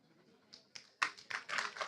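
An audience breaks into scattered clapping, starting with a few faint taps and swelling into brief, close applause that grows denser toward the end.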